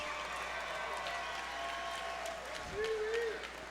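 An audience at a mixed martial arts fight event applauds in a dense, steady roar, with a short whistle rising near the end.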